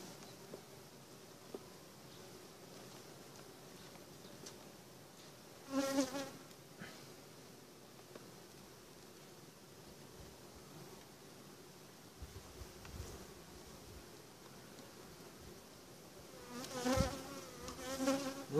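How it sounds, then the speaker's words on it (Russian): Honey bees buzz at a universal nucleus hive, a faint continuous outdoor drone with a couple of louder, closer bursts as individual bees pass near. "Как видите, пчелки работают. Работают хорошо."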